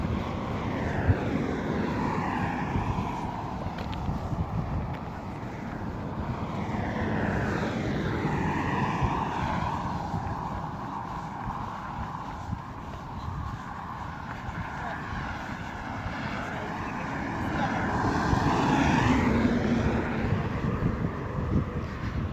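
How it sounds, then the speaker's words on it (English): Steady roadside traffic roar along Nanyuki Highway in Kenya, continuous and fairly loud, with vehicles swelling past on an evening walk; a faint voice is heard now and then. "So I apologize for the road noise."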